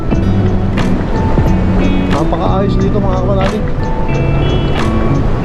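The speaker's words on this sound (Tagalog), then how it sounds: "Ang lakas lang ang hangin" Strong wind on a scenic overlook in northern Luzon, Philippines buffets the microphone with a loud, continuous roar while a person speaks through it.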